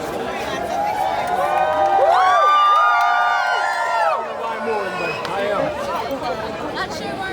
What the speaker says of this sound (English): Not sure why we're cheering.